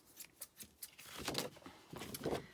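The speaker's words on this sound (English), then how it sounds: "So I'm going to be using some bigger scissors" Large scissors snip card stock into a wine bottle gift box: a quiet run of short crisp cuts, sparse at first and then a denser, longer cutting stretch, close and faint.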